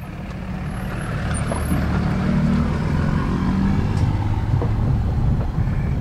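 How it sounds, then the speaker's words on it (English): A pickup truck rolling down a road near a deer camp. Its engine rumbles low and steady and grows slightly louder as it comes closer, with no voices. "I'm seeing this guy and his truck come on down"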